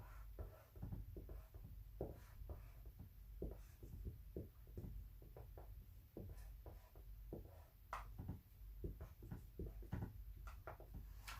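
A pen scratches across paper, writing sentences by hand in soft, quiet strokes with irregular taps and pauses, close and faint with no talk.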